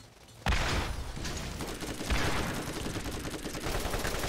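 Gunfire from a Borderlands sniper fight: a sharp shot bursts in near the start, then dense crackling fire and a second heavy report around midway, with continuous loud game noise and no talking.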